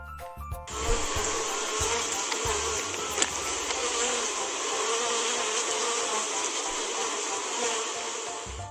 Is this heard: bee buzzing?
yes